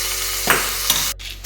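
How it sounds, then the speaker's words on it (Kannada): Hot tempering hisses and sizzles loudly as it hits a potato and yogurt curry, with brief stirring scrapes and a short clink of cookware, close up and without any talking. "ನೋಡಿ, ಬಿಸಿ ಬಿಸಿ ಒಗ್ಗರಣೆ ರೆಡಿಯಾಗಿದೆ."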